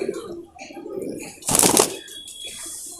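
A pigeon kept by a fancier coos softly and then gives a short loud burst of wing flapping close by, while someone talks over the birds.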